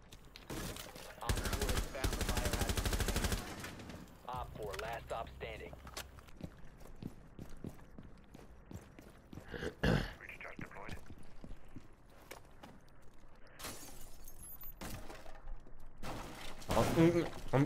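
Rapid bursts of gunfire in a Rainbow Six Siege match, some shots punching through walls, with a loud sustained volley early on and then scattered sharp shots and footsteps while players talk over the action.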